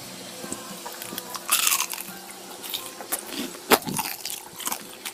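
Someone bites into crispy fried chive dumplings, with a few close, sharp crunches and bursts of chewing amid quiet background noise.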